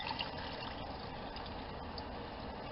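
Water pours steadily into a pot of red beans, a continuous close splashing fill with no voices over it.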